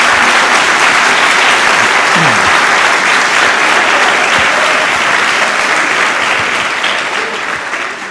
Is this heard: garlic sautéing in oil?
no